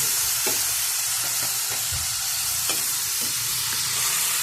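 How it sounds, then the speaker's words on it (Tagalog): Pork belly (liempo) sautéed in a pan, a steady bright sizzle running throughout with repeated spatula scrapes and stirring knocks at irregular intervals, close and alone. "Yan, igisa rin natin siya. Tapos, haluin lang natin"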